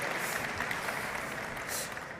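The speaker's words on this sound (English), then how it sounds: "Give another round of applause," An audience at a Web3 technology conference applauds steadily, a dense wash of clapping that holds at an even level for about two seconds and eases slightly near the end, with no voices over it.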